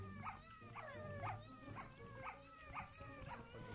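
A Minecraft dog in a video game gives a run of short, evenly spaced whimpering yelps, about seven in a row, over a busy layer of game background noise.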